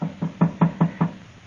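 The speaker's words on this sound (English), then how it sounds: "Yeah, who is it? It's Carter." Five sharp knocks on a door in an old-time radio western drama, evenly spaced and fairly close, heard alone with no talk over them.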